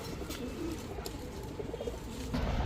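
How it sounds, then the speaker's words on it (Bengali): Low, soft coos of green-necked high flyer pigeons murmur steadily over a busy background hum, with a few faint chirps mixed in. "এখন দেখাবো রাস্তার রাজা রোড মাস্টার হাইফ্লায়ার সবুজ গলা কবুতর"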